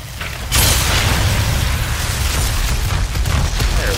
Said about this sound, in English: Ah, the shadow bomb.